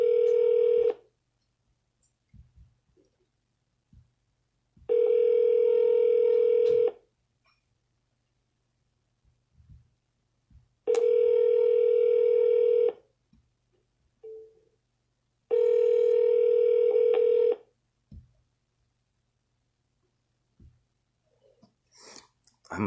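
A telephone dialer placing a cold call, giving four long steady ringback tones spaced several seconds apart with quiet gaps between them.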